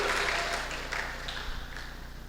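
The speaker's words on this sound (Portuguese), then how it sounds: "Quem crê, levanta a mão e aplauda ao Senhor Jesus" Church congregation clapping at a Pentecostal revival service, a dense wash of applause sustained through the whole moment, fairly steady with slight swells, heard from within the room.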